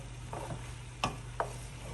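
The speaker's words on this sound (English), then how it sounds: "We'll add in our sauce. Stir it, mix it well." Sauce being stirred into vegan vegetable chow mein in a pan, a faint low sizzle with a few quick scraping strokes of the utensil, close and quiet, without talk.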